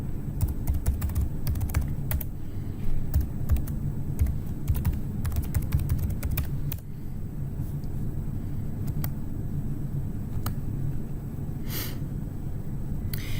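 Computer keyboard keys are tapped in bursts while a login username and password are entered, with steady clicks over a low background hum and no talking.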